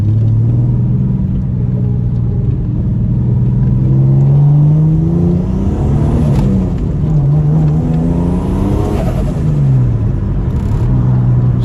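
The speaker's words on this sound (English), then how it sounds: "Started spooling up pretty quick, and it's got a nice turbo flutter to it" A 1995 Ford Falcon EF with a turbocharged Intech 4.0L six drives hard, its engine droning loud and steady with rising and falling revs through the gears and a brief turbo flutter between pulls.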